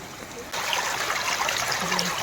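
Flowing water at Marmala waterfall near Vagamon rushes in as a steady, full wash of noise after a brief quieter start, holding at an even level throughout.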